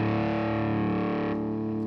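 Jackson American Series Virtuoso electric guitar on its cleanest setting, a single sustained ringing chord that holds and slowly decays alone.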